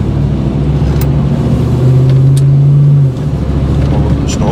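Chevrolet Blazer truck driving near the Snohomish River, a steady low engine and road rumble throughout with a brief rise in engine tone in the middle, loud and close from inside the cab.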